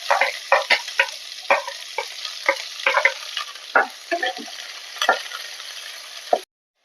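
Dry chillies and phoron spices fry in hot oil with onion in a pan, a close sizzle punctuated by repeated sharp scrapes of a spoon stirring, then stopping abruptly; no one speaks.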